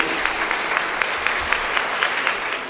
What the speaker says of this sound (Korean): 신부 아버님께 다시 한번 감사의 박수 보내주십시오